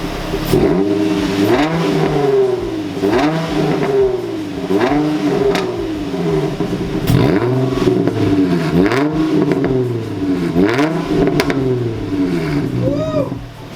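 A Nissan G35 with a modified exhaust revs repeatedly, its engine note rising and falling in loud, rhythmic pulls that sit close and dominate the scene.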